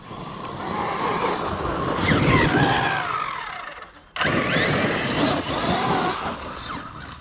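The electric motor of an ARRMA 1/5 scale KRATON EXB RC car, which has no brake, whines loudly at full throttle, pitch sweeping up and down, cutting out briefly midway before roaring back.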